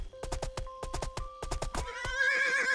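A horse in the VR video game Viva Project gives a series of loud, close neighs and whinnies with a quavering tonal cry, followed by clip-clopping hooves at the end.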